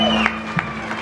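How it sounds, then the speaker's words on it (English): An audience at a live concert at Campus in Jax, CA, applauds over a steady crowd wash, with a few sharper claps or cheers breaking through, a constant low electrical hum underneath and murmured voices mixed in. "Give a round of applause for my mom and baby."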